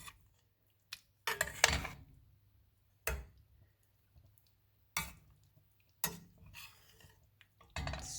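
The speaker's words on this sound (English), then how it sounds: "let's give it a quick stir" Veggie soup stirred in a pot, a handful of sharp scraping clinks and knocks of a utensil against the pot, spaced out with quiet gaps between them, close and fairly faint.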